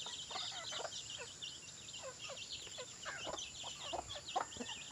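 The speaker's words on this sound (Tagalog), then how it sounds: "Mayroon na naman tayong sisiw." A brood of young chicken chicks peeps in quick, high, scattered chirps that keep going over a constant low noise, soft and fairly close, with no speech.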